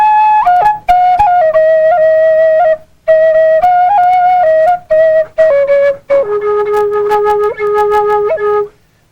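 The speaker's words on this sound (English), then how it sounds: "As well as a Cheyenne flute, different sound from a different nation of American Indian peoples." A breathy Cheyenne flute plays a slow melody of sustained notes in separate phrases, with short pauses between them, clear and close, with no voices.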